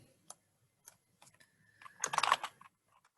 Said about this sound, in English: And then I'm just going to type my little spiel.